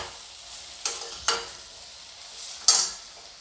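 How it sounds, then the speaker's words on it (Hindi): Eggplant and peas fry in a pan at a low, quiet sizzle, broken by three sharp bursts of stirring and tossing. "अब बैंगन को मैं लगभग 1 मिनट तक अच्छी तरीके से चला लूँगी मैं।"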